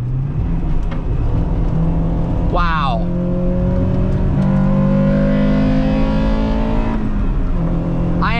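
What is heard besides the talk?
Acura Integra Type R engine accelerating during drive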